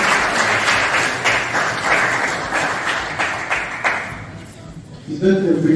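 Loud audience applause at a public lecture fills most of the clip, then fades as a voice begins speaking near the end.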